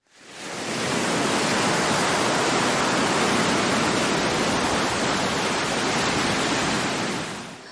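A storm at sea roars as a dense, continuous wall of broadband rushing noise, rising in quickly, holding loud and steady for about seven seconds, then easing slightly at the end, with no voices.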